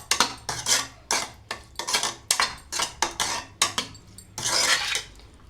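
Spoon scraping and clinking against a bowl while red food colour is mixed into homemade tutti frutti, a steady run of close, loud metallic strokes with a longer swirl near the end.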